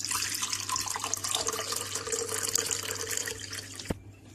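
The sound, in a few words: straining a coconut water mint mojito drink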